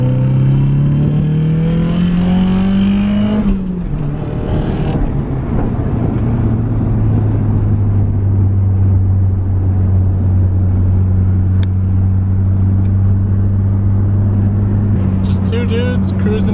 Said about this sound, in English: Just two dudes cruising in a mint 240 into the sunset.